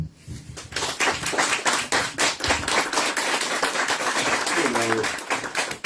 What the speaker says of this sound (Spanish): y los dejo con Gustavo, para quien pido un fuerte aplauso